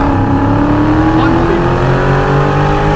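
A Dodge Scat Pack's engine roars loud and close under hard acceleration, its pitch climbing steadily as the transmission drops to the lowest gear and the car pulls.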